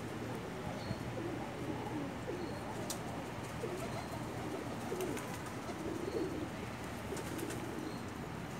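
Pigeons cooing softly against a steady outdoor background hum, the low calls faint and repeated, with no voices.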